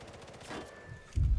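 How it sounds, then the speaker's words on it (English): Gunfire in the video game Sniper Elite 5, with a scattered crackle of shots under faint game ambience and a heavier, louder burst at the end. "Oh, machine gun."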